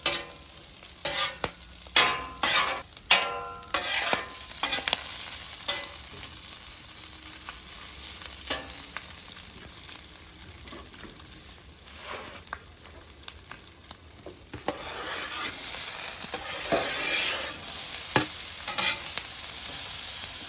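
Potatoes, peppers and onions frying on a flat-top griddle for a breakfast hash, with a steady close sizzle and repeated scraping and stirring of a spatula across the metal.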